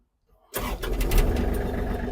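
After a moment of silence, the diesel engine of a Kubota GL-33 mini tractor cranks and catches, settling at once into a steady, rumbling idle close by.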